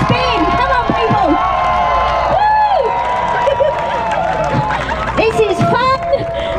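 An audience at a street performance at the Waterloo Buskers Carnival cheers and shouts in a lively outdoor crowd, with excited voices rising and falling continuously as people talk over the noise.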